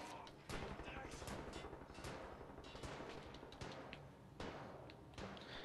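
Enemy gunfire in Wolfenstein: The New Order rattles in rapid, continuous automatic bursts punctuated by heavier cracks, steady and dense throughout.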